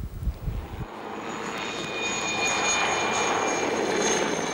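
A helicopter flies low over vineyards while spraying treatment products, its steady engine and rotor drone rising after a brief thump and holding loud and continuous without talk.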